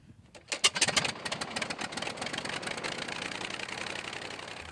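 A replica Airco DH2, a WW1 pusher biplane built in 1974, starts its engine at an airfield: a few sputtering catches, then a steady, rapid buzzing run that settles into an even drone.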